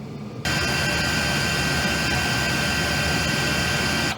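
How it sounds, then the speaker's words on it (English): Diesel heater fan on a boat blowing hot air, a steady broadband whoosh starting abruptly and continuing loud and unbroken to the end. "And the fan has started running. Yep, that's hot air coming right now."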